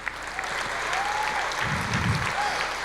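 A church congregation claps during a service, a steady wash of hand claps sustained throughout, with faint vocal tones and low murmuring rising beneath the applause.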